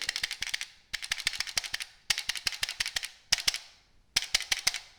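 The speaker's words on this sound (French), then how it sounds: "quand on insère le chargeur Browning, ce que je pense est un chargeur Browning, ça s'insère, ça tient" An HK P9S 9 mm pistol takes a Browning magazine, heard as repeated sharp metallic clicks in five quick bursts of several taps each, close and loud with short pauses between bursts.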